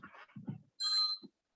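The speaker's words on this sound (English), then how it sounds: "And I believe that is my phone ringing" A phone rings once in a short, faint tone after a few soft, muffled knocks in an otherwise quiet room.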